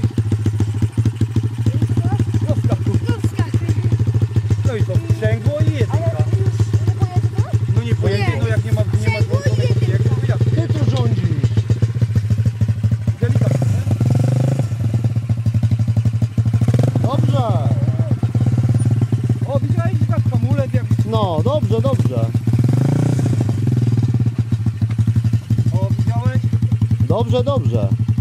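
A motorcycle engine idles and revs unevenly throughout during a riding lesson, close by, with people talking over it.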